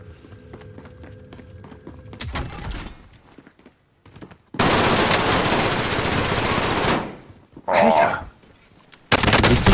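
Gunfire in Call of Duty battle royale comes as loud rapid bursts, a long sustained volley in the middle and further short bursts, with quieter gaps between and voices during the match.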